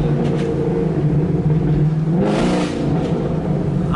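A Chevrolet SS car revs on a wet road, a loud close engine roar holding steady, then rising sharply in a quick burst of acceleration before settling back.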